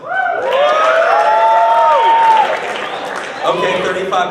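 A school audience at a Martin Luther King Day assembly answers with a burst of cheering, whoops and clapping, loud and crowded for a few seconds before fading, with a voice rising near the end.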